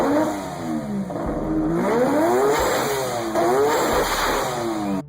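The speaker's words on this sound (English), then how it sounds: "a 3-rotor RX-7 with an unequal length exhaust manifold" A three-rotor Mazda RX-7 rotary engine with an unequal-length exhaust manifold revs up and down repeatedly in loud, rising and falling sweeps, buzzy and raspy, with no talking.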